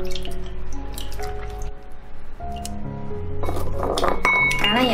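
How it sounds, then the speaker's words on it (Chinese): Broken dendrobium stem pieces dropped into ceramic stew pots in a kitchen, giving a series of light clinks and knocks against the pottery, close and fairly clear, with some wet dripping sounds and no speech. "10颗石斛掰成2段，清洗一下，分别放到炖盅里。"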